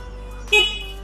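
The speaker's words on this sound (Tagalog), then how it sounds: "pakinggan natin yung busina kung okay ba siya." The horn on a Motorstar Easyride Legend 125fi scooter gives one short, loud honk that cuts in suddenly over a steady low hum and fades quickly.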